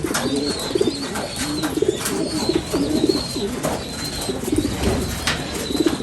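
Pigeons coo repeatedly in low, throaty rolling calls, close by and fairly loud, with a faint higher chirp drifting in the background.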